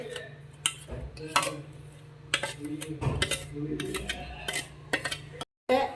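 A spoon scrapes and clinks against a pot while ground coconut paste is stirred into chena theeyal curry, soft irregular taps and scrapes over a faint steady hum.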